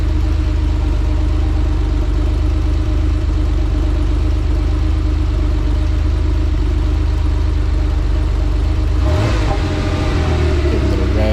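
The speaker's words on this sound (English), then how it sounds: "Give a little rev with the idle stabilize." A Porsche 911 engine with Bosch CIS K-Jetronic fuel injection runs loudly and close at a steady idle, then gives a brief rev near the end.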